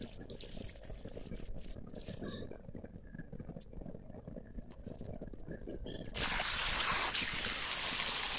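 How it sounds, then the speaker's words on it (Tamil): Water gushes fast from a cut drip irrigation pipe in a farm field, a steady rushing hiss that swells suddenly louder and brighter toward the end, close by. "தண்ணி வந்து இவ்வளோ ஃபாஸ்ட்டாக வருது பாருங்க"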